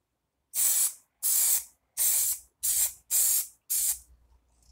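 An aerosol spray paint can held upside down lets out six short, loud hissing bursts of roughly half a second each, separated by brief pauses, close up with no talking.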